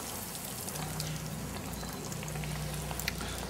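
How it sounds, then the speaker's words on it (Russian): Steady sizzling of a breaded chicken schnitzel frying in a hot pan, a continuous crackle with faint pops throughout, no voices. "И отправляем шницель в сковороду."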